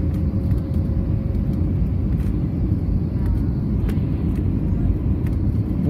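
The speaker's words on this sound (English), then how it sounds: "We're landing. We're gonna touch the ground any second now." A Frontier airliner on final approach into San Juan's SJU International Airport, heard from the cabin as a loud, steady broadband rumble of engines and airflow that holds evenly throughout without a distinct touchdown thump.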